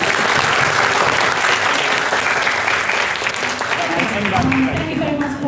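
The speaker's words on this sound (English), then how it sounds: "please give a big round of applause" An audience claps after an academic lecture on publishing narrative inquiry research, giving a loud, continuous round of applause that runs throughout with no speech over it.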